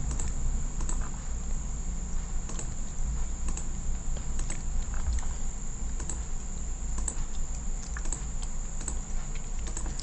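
Fast, steady clicking of computer keyboard keys, close and continuous, over a faint high insect-like whine and room hiss, with no talking.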